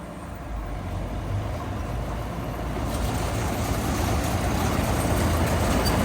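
A John Deere 955 combine harvester engine idles steadily up close, a dense low rumble with a broad constant hiss that swells slightly louder partway through and holds evenly with no voices.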